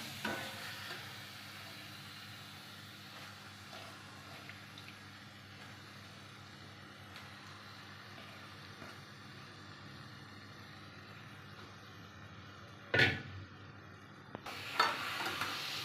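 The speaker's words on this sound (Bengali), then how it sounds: "এবার এটাকে ভালো করে কষিয়ে নিতে হবে।" Onion-spice masala with tomato being sautéed and stirred in a pan: faint, steady low sizzling with soft stirring, then a couple of sharper clanks and scrapes near the end.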